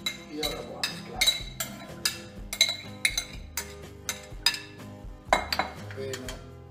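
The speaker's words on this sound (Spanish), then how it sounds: "Y ahora vamos a mezclar" Octopus pipirrana salad with cucumber and green onion is tossed in a bowl, with repeated rhythmic clinks and scrapes of utensils against the dish, close and distinct.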